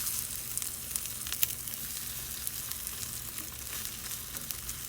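An egg sizzles and fries steadily in a pan, a constant crackling hiss with small pops throughout, close and continuous with no talking.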